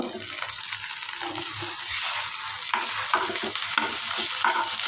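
Mixed five-variety saag greens frying in a pan, a bright continuous sizzle with repeated close scrapes and clinks of stirring throughout, no speech.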